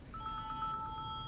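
A phone ringtone sounds in a repeating electronic pattern of short, evenly spaced tones, fairly faint over low background noise in a room.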